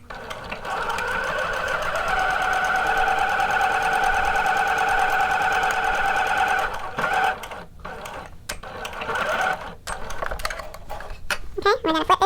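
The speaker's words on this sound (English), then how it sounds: "we're going to do another row of stitching" A sewing machine stitches a row on shorts fabric with a loud, steady whirring run lasting several seconds, followed by short bursts and clicks of backstitching and handling.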